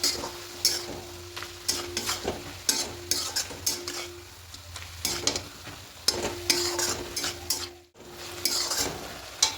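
Poppy seed paste being stirred into bete greens frying in a pan: repeated scraping strokes of a spatula against metal over a continuous sizzle, close and fairly loud, with brief clinks of the utensil.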